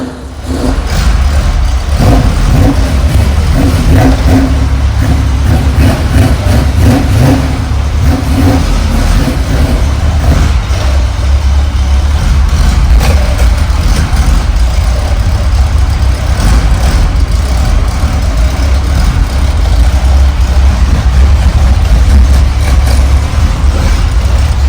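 A Porsche 912 with a flat-four engine runs steadily close by, idling and revving lightly as the car is maneuvered around, with a continuous low rumble throughout.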